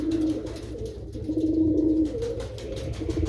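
Pigeons coo steadily in a Punjabi pigeon loft, a low repeated burbling that continues close and fairly loud over a dense background of further cooing birds.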